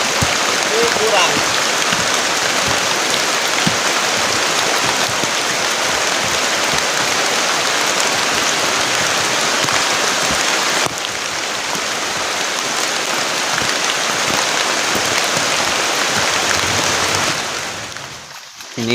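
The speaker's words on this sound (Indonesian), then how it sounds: "Kita ini hujan tuh" Heavy rain pours steadily onto a forest campsite, a dense, unbroken hiss that lasts almost the whole time, then thins out and fades near the end.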